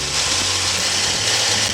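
A 289 engine in a 1963 Studebaker Avanti runs steadily close by, a loud, even mechanical drone with a faint rattle and no voices over it.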